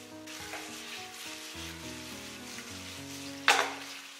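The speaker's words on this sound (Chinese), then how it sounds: "来点蚝油，然后大火给它煸炒" Shiitake mushrooms stir-fried over high heat in a wok with soy sauce and oyster sauce, a steady close sizzle with soft stirring scrapes and a sharp louder hiss near the end.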